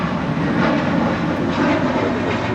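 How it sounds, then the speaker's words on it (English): An American Airlines A321 bound for JFK departs LAX with a loud, close engine roar that swells and eases slightly in waves, with no talking. "This is American Airlines Flight 32 departing to JFK on an A321."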